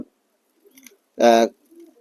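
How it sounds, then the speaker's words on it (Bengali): A pigeon gives one short, close coo midway, surrounded by near silence and a few faint soft murmurs, among fancy and racing pigeons. "আমার যে ফেন্সি পায়রাগুলো আছে ওদেরকে কাটা ভুট্টা দেওয়া হয় কিন্তু আমার জেলা রেসিং পায়রা আছে"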